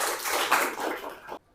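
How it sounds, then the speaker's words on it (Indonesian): A class claps hands briefly, a dense burst of applause-like clapping that stops suddenly after about a second and a half. "Tepuk tangan"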